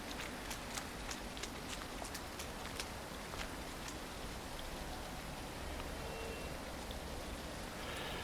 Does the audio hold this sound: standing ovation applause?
no